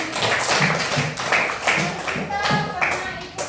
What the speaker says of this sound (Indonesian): Iya, tepuk tangan dulu untuk teman kita.